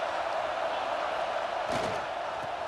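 A stadium crowd in the College Football 26 video game roars in a steady, broad wash of cheering, moderately loud and sustained, with a brief swell near the middle.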